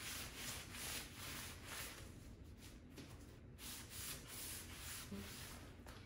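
A steady, continuous rubbing and scrubbing by hand as a finish is worked into a thrifted piece of artwork, soft and close with a faint rhythmic back-and-forth and no talking.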